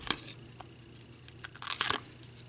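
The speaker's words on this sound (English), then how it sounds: "just peeling the paper off." Backing paper peeled from a strip of Dollar Tree double-sided tape during a Christmas candy doily craft, giving a few quick, close, dry tearing rasps and crinkles, with a busier burst of peeling near the end.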